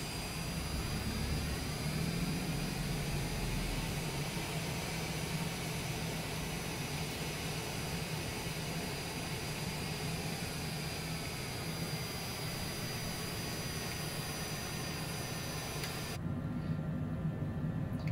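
Airliner jet engines taxiing in the video game Flight Simulator 2020, heard as a steady, loud, even whine and roar that holds without a break, with no talking over it.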